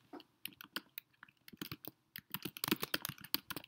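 Typing on a computer keyboard: quick, irregular bursts of light key clicks, sparse at first and then faster and denser, heard close and alone.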